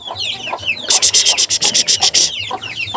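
A hen and rooster cluck close by among chickens on a farm plot, with short repeated clucks and a rapid burst of loud calls in the middle.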